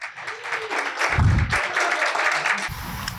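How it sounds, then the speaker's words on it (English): A round of applause at an annual awards dinner, a crowd clapping in uneven bursts with a heavy low thump midway and a brief sustained tone near the end. "If we could please give her a round of applause"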